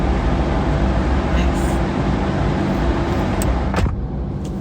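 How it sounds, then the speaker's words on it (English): Car deck of a Manx ferry full of vehicles, a loud constant mechanical roar and rumble filling the hold, with a few brief clanks toward the end. "We're in the underbelly. In the underbelly. I don't know, it feels like we're in the belly of the beast. You know, it's full of cars."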